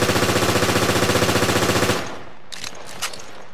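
A P90 submachine gun firing in Resident Evil: Revelations, one rapid even burst of shots lasting about two seconds, loud and close, then cut off, followed by a few faint clinks.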